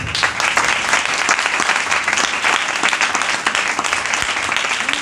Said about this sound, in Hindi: एल्डर साहब के लिए ताली बजाएं जोर से